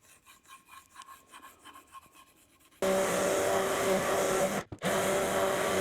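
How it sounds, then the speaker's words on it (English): Finish sanding on a wooden money box: soft scratchy strokes at first, then a loud continuous power-sander whine that runs steadily with one brief cutoff before resuming. "I'm going to do some finish sanding real quick"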